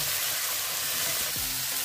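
Bay leaves and cashews sautéing in a hot pan for butter chicken, a steady close sizzle and fry hiss throughout with faint stirring scrapes underneath.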